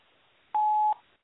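A single telephone keypad tone sounds while a voicemail is being left, a steady clean beep lasting under half a second in an otherwise quiet line.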